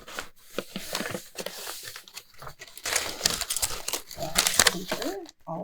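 Packing paper crinkles and tears in repeated close bursts as a beauty-product lucky bag is unwrapped, with quiet gaps between the rustles.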